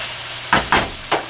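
Stir fry sizzling in a hot pan, with three or four bursts of scraping and crackling as the food is stirred over a low steady hiss, close and loud.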